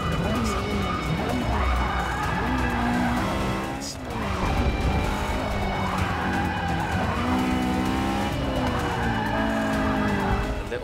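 A Honda S2000 races in Forza Motorsport 6, its engine revving up and down in repeated loud sweeps with tire squeal and skidding, while someone talks over it.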